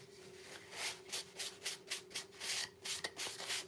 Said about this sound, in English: I want this to be sanded pretty well